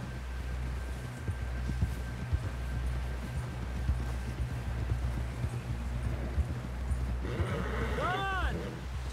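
Horse hooves clip-clopping in the video game Red Dead Redemption 2, a steady rhythmic trot over a low rumble of ambient noise, with a short spoken exclamation near the end.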